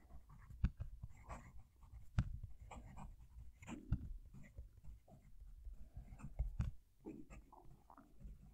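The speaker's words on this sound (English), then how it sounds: "I'm going to move the mic so you can hear the pen write." A steel-nibbed fountain pen, a Conklin All American, scratching across paper up close, with quiet, irregular strokes and occasional sharper ticks as the nib drags.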